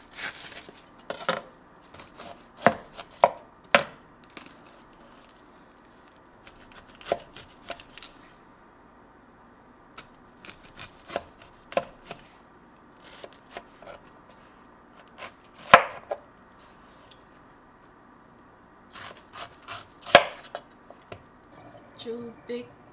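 Knife chopping half of a big pineapple and vegetables on a board for Vietnamese sweet and sour catfish soup, with irregular close taps in short bursts and pauses, quiet talk now and then between cuts.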